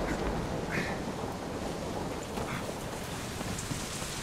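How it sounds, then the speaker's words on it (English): Heavy rain from a storm in the game Deadlight pours as a dense, steady hiss, with faint low rumbling underneath, continuous and without speech. "Damn storm."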